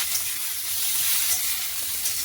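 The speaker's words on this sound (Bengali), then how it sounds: "এবার কপিটা আলাদাভাবে ভাজছি।" Cauliflower frying in oil with whole cumin seeds, a steady close hiss and sizzle of hot oil with faint stirring, no voices.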